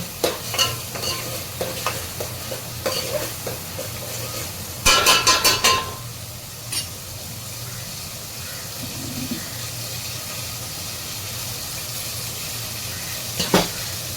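Food frying in oil in a pan, with stirring scrapes and clinks of utensils over a steady low sizzle, including a brief loud burst of sizzling and stirring near the middle.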